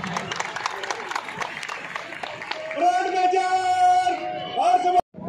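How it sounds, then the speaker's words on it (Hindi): A crowd at a Republic Day parade held at a police lines ground claps and shouts loudly, with a voice calling out and a sustained tone later cutting through the applause. "जोरदार तालियों से स्वागत"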